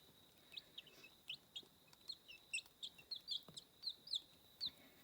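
Small hens cluck in short, faint, repeated calls inside a cabin, a quiet steady series of chirpy clucks with no talking.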